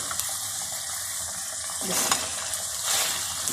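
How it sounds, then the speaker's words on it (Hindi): Steady, close sizzling of potatoes frying in a pan with chicken, with a couple of louder bursts of crackle and a brief clink. "आलू भी थोड़े से फ्राई हो जाए फिर दूसरी चीजें डालती हूँ"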